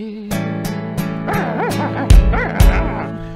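A dog barks and yips several times, close and loud, over a steady musical backing at a children's concert.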